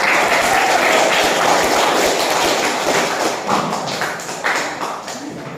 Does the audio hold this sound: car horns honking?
no